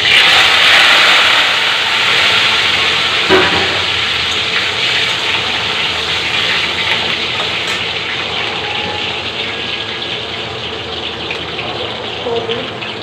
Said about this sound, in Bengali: এই অয়েলেই আমি আলুও ভেজে নেব। সেদ্ধ করে রাখা আলু।